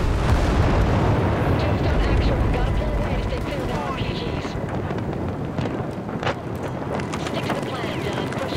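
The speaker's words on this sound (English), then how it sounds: "That's a big explosion" A big explosion in the Battlefield 4 video game: a loud, sustained roaring rumble that starts heavy, then slowly thins into crackling, scattered debris-like noise.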